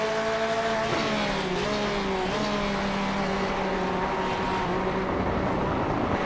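Race cars, a Ferrari and a Porsche, battling in a sim racing game at Watkins Glen, engines screaming close by with rising and falling pitch as they shift and jostle for position.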